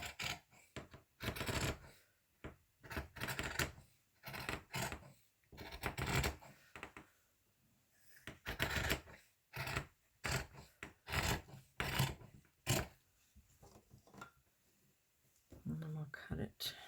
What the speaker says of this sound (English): I think I'll just cut it even.